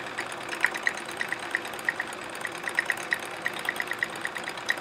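A home sewing machine stitches free-motion quilting and thread painting in a steady, fast run of needle strokes, close and even, with no voices over it.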